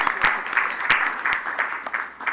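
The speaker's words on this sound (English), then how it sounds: "I'd like to thank them and give them a round of applause." Audience applause at a city council awards presentation, a short burst of scattered, fairly close hand claps with a few sharp individual claps standing out.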